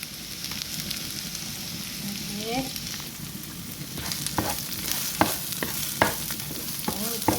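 Onions sautéing in a pan, a continuous crackling sizzle with a spatula scraping and tapping against the metal, strokes growing more frequent toward the end; close and fairly loud, no speech.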